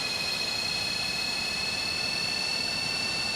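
Jet engines of a Boeing 737-200 in a flight simulator spooling up, a steady loud whine with a constant roar underneath and no voices.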